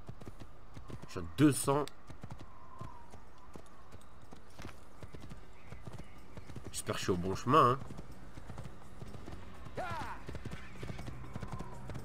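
Horse hooves clip-clopping in the Assassin's Creed video game, rhythmic steady hoofbeats running throughout with a few louder bursts, while someone talks in French over them.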